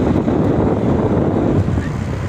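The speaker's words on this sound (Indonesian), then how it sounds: "sepeda motor." Constant wind buffeting from riding a motorcycle around Takengon in Central Aceh, a loud, rough roar filling the whole stretch with no break and no talk over it.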